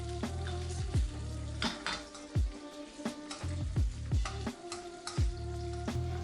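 Prawns and prawn heads fry with garlic in a pan, giving a steady sizzle. Repeated clinks and scrapes of a utensil against the pan come about once a second.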